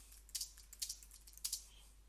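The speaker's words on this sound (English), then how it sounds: "I can literally start typing" Light, quick keystrokes on a computer keyboard, a few close clicks in short bursts, faint and near with no talking.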